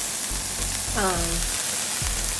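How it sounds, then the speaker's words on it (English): Onions, peppers and garlic frying in a pot on the stovetop give a steady broadband sizzle, with a few low knocks and a brief tonal scrape partway through. "we have some onions, the peppers, the garlic. We have it cooking right here on the stove"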